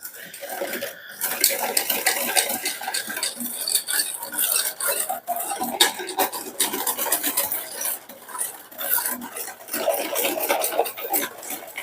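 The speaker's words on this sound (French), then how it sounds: "on vient remuer tout ça" A spoon scrapes and clatters steadily around a bowl as a pie batter for a Pyrenean tart, plain or with blueberries, is stirred, a continuous close rasping swirl with metallic clinks throughout, no talking.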